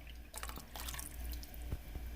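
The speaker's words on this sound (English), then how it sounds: "I'm just going to swirl it around" Water sloshes and swirls inside an enchilada sauce can in a kitchen, quiet irregular splashes and a few dripping plinks close by.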